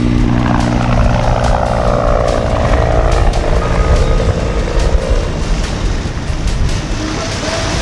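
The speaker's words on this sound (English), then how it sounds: "four Black Hawk helicopters and maybe two of them that were, four of them were in formation, one of them was not" Four Black Hawk military helicopters passing overhead while cruising by boat in the Bahamas, a loud continuous rotor thrum with rhythmic blade slaps, mixed with wind and water noise.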